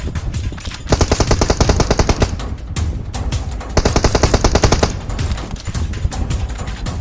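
Automatic weapon bursts in the PUBG Mobile battle game: two long rapid strings of shots, loud and close, separated by short pauses and single sharp cracks.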